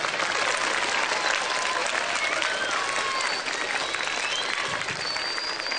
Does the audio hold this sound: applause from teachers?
yes